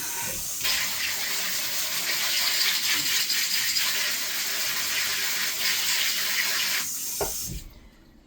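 Garden herbs such as oregano, basil and dill are washed in a sink under a steady, loud rush of running tap water that carries on for several seconds, then cuts off near the end.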